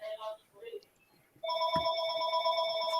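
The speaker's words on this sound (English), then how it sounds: "That's my phone." A phone rings with a steady electronic telephone-bell tone that starts abruptly and continues loudly after some quiet talk and room noise, with a brief thump partway through.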